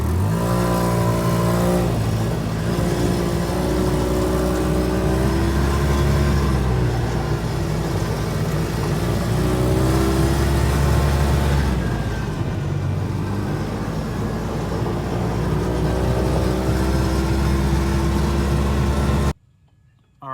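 A 2005 Polaris Ranger XP 700 with a high idle problem runs at a steady, fast idle, a loud continuous engine drone with a slight waver in pitch that cuts off abruptly near the end.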